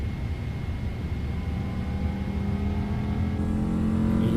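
Jet engines of a PMDG 777 in a flight simulator game drone steadily at a loud, even level, a continuous low rumble with a faint whine layered above and no voices.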